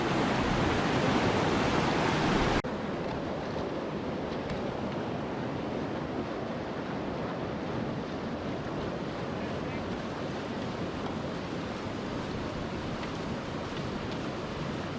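Water rushes steadily through a gold prospecting sluice in Girdwood, Alaska, a continuous close, loud wash with a brief louder burst at the start and no talk.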